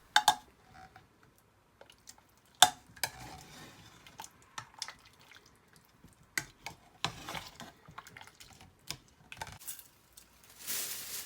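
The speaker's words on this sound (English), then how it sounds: "I'm gonna open up the lid again and give it a good mix" A pot of chickpea curry is stirred with a spoon, producing sparse, quiet scrapes and clinks against the pot in an irregular rhythm, with a brief louder rustle at the end.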